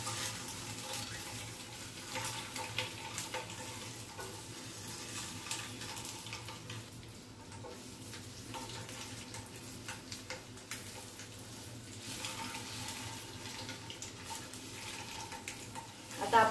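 Eggs fry in a pan with a steady, broadband sizzle and crackle that holds evenly throughout at moderate loudness, with no talk over it.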